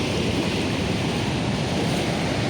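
Nugget Falls, a glacier-fed waterfall in Alaska, rushes as a close, steady roar of churning water mixed with some wind buffeting, with no one speaking.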